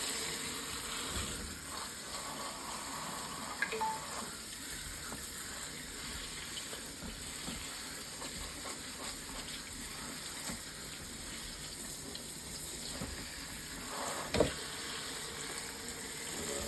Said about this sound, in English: All right, gonna give these peaches a nice rinse.